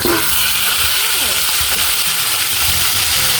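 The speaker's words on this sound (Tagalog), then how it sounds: "ilagay na po natin yung isda. Iprito na po ba?" Steady sizzling and crackling of fish frying in hot oil, loud and close, with faint stirring noises throughout.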